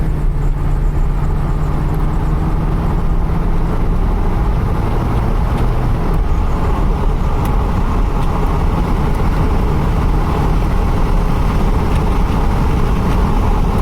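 A 1993 Ford Econoline van with an oil leak and wet belts is driven on a test run, its engine and road noise droning loud and steady from inside, pitch shifting slightly as it changes gears.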